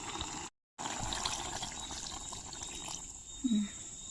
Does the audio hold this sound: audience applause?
no